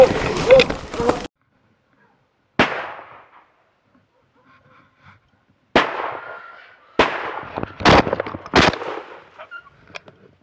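Gunshots ring out during a wild boar hunt, several sharp loud reports spaced unevenly, some echoing off the surroundings, with a voice and rustling at the start.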